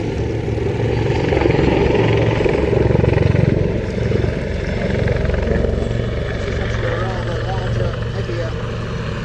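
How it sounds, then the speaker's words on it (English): A twin-engine Lynx helicopter roars steadily overhead, its rotor beating and engine whining loud and close throughout. "Twin engine Lynx was a successor to another great helicopter"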